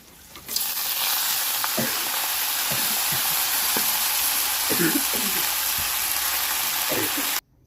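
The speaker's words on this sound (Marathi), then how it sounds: "आता आहे ना ही धुतलेली भाजी टाकू त्यामध्ये" Washed vegetables drop into a pan of frying cumin, green chillies and garlic, setting off a sudden loud sizzle that hisses on steadily with a few stirring scrapes, close by, then cuts off abruptly.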